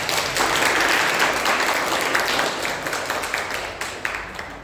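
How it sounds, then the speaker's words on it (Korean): Church congregation applauding to welcome guests at a Sunday worship service, a steady dense wash of clapping that stays loud throughout and tapers slightly toward the end. "큰 박수로 환영하겠습니다."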